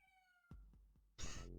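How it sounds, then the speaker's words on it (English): A short cat meow from the video game Time Gentlemen, Please!, heard alone after a few soft clicks and followed by a bright, harsh burst. "A little cat noise."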